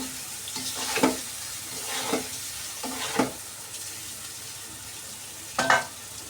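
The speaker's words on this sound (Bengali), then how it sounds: "এখন ডিমগুলো দিয়ে দিব আলুর সাথে ভালোভাবে একদম কষা করবো ডিমটাকে।" Eggs and potatoes sautéed in a pan, with a steady low sizzle and four distinct scraping stirs spaced a second or two apart, the last a quick double scrape, all close and fairly loud with no talking.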